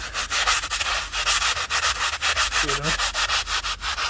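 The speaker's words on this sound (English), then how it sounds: "So I'm gonna sand this on there" Close, rhythmic back-and-forth strokes from sanding JB Weld on a semi truck differential, steady and abrasive, with a quick rapid stretch near the end.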